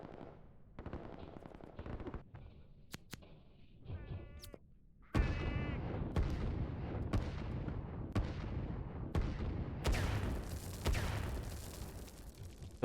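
Artillery and rapid gunfire from the strategy game Line War, a dense barrage of repeated sharp blasts and rattling bursts, loud and continuous with no talk.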